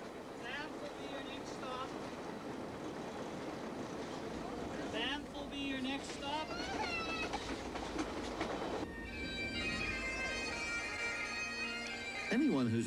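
A passenger train rolls into Banff station in 1989, its wheels clattering and metal squealing and screeching as it slows, with someone narrating over the rumbling rail noise.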